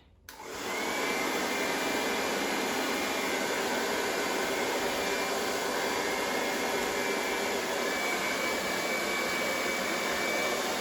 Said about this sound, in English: blow dryer. Now, I'm not supposed to be using this one. This is my expensive Cloud9